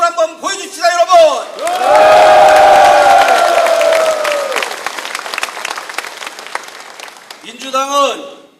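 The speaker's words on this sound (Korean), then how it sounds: "함성과 박수로 한번 보여줍시다, 여러분." Large political rally crowd in Gwangju roars with cheers and sustained applause, a dense swelling wash lasting several seconds between stretches of an amplified speaker's voice.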